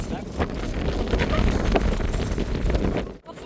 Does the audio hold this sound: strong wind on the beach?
yes